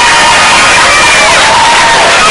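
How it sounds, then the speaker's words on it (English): A loud, dense crowd at a steel pan competition final roars with cheering and clapping blended together, sustained throughout without a break. "give all of the schools a nice round of applause."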